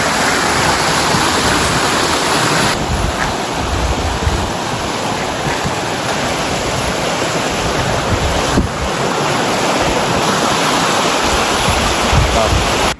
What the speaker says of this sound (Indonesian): Seperti sungai di tengah jalan ya.